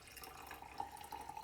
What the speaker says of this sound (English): I'm just brewing my tea here, so I'm just about to pour it